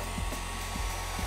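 A heat gun blows hot air onto vinyl wrap in deep channel recesses, a steady airy hiss with a few faint soft bumps.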